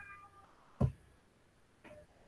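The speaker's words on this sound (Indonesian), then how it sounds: "ini ada kucing kayaknya" A cat, seemingly trapped, lets out two short meows about a second apart: the first louder and sharper, the second fainter. Both sit over a quiet background with no talking.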